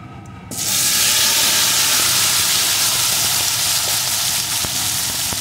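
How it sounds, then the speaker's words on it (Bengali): Chunks of gathi kochu (taro) hit hot oil with a sudden loud sizzle that settles into a steady, dense frying hiss, bubbling close and continuous with no talk. "এখন এই কচুগুলো বেশ কিছুক্ষণ ধরে সুন্দর করে ভেজে নেব।"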